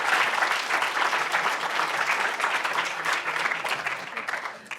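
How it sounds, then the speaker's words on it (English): An audience applauds musicians and a presenter after a concert evening of Georgian polyphony, a steady, dense round of clapping that tapers slightly toward the end. "So we owe him an extra round of applause for helping to pull together these musicians tonight"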